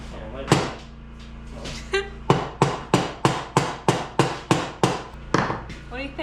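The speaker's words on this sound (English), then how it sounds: "hit it with a hammer quick." Hammer striking a metal part during restoration of a 1932 three-window car: a couple of loose hits, then about a dozen sharp, evenly spaced ringing blows close by, with people talking.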